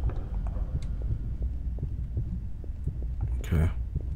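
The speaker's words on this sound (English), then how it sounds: "the heartbeat is when you run out of stamina" A low, steady heartbeat throbs when stamina runs out in the game Interior Worlds, repeated dull thumps under a spooky hum, with a player talking over it.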